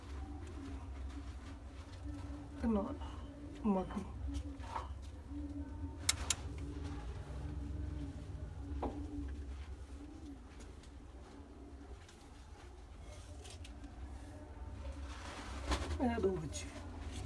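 Bred pigeons in a breeder's loft, cooing in several soft rolling bursts at moderate distance, while someone talks intermittently over a low background hum.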